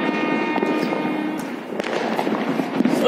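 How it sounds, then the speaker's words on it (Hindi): A 30-shot multicolour Diwali firework cake fires from a rooftop, giving a dense, continuous crackle with sharp pops and bangs throughout. No speech is heard. "ये हमारा 30 शॉट चल रहा है"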